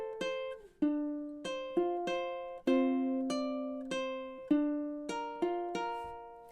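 Fingerstyle ukulele plays measures 10 to 13 of a song: about a dozen clean plucked notes and chord tones, each ringing and decaying in a steady, unhurried rhythm, close and clear with no voices.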